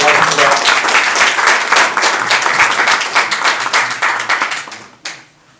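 Audience at a science and technology policy forum applauds, with dense close clapping at full strength that thins out and stops abruptly near the end, leaving a quiet tail.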